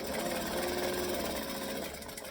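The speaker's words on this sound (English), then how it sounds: "I'm going to stitch and I'm going to back stitch" A sewing machine stitches forward and back in rapid, even needle pulses, a quiet mechanical chatter running steadily for a couple of seconds with no voice over it.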